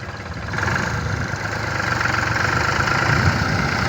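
A tractor engine runs steadily nearby, a continuous low rumbling drone that grows slightly louder after a moment, with no voices.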